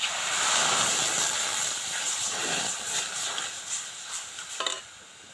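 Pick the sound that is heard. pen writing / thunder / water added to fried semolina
water added to fried semolina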